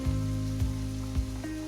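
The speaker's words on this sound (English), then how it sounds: "So till then you have to deep fry the chicken." Chicken pieces deep frying in hot oil give a continuous close sizzling hiss with a steady hum beneath and a few soft pops, with no talk.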